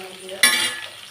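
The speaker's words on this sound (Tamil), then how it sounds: "எண்ணெயிலே வதக்கிட்டு போகிறேன். நல்லா வதங்கட்டும்." Bitter gourd sautéing in hot oil in a pan for kulambu, a sudden close sizzle bursting up and continuing briefly.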